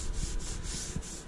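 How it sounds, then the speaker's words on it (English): Sanding a car's body side skirts before painting, a steady abrasive rubbing scrape with soft rhythmic strokes, close up and continuous, no voices. "But I started sanding."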